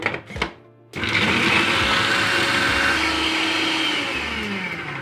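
Electric chopper grinding garlic and ginger into paste: a loud, steady motor whir and blade clatter starts abruptly after a short pause and runs continuously to the end, with no talk over it.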